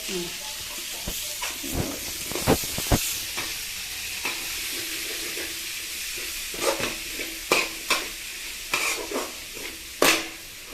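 Masala for a homestyle broiler chicken curry sizzles in a pan, with steady frying hiss and repeated sharp scrapes and clinks of a spoon stirring against the pan, fairly close.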